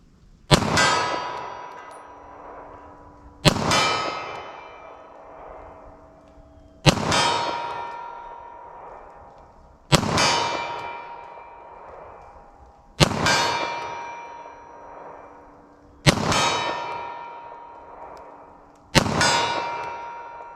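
Seven single 9mm pistol shots fired at a target 40 yards downrange, spaced about three seconds apart. Each is a sharp, loud crack followed by a ringing metallic clang and a decaying tail, with no talking between shots.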